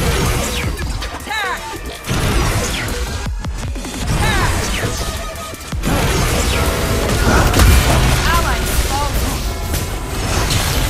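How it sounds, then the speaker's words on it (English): A turret collapsing in the game Onmyoji Arena: loud crashes and booms with whooshing effects in a dense, busy battle mix, under a game announcer's voice. "Your turret has been destroyed!"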